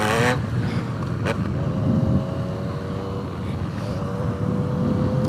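A Yamaha FZ09 motorcycle rides away, its engine a continuous rumble with a rising then steady whine that fades slightly over a few seconds, with no talking.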